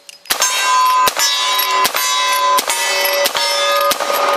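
An 1866 Winchester Yellowboy lever-action rifle fires rapidly at steel targets. Each loud, sharp report is followed by a bright ringing clang, about seven shots in a fast, slightly uneven rhythm, and the metallic ring sustains between them.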